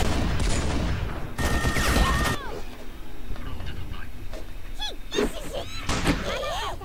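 Bursts of gunfire in the video game Toywars, a dense burst up front, then scattered shots and chirpy effects over a steady game background, loud and close.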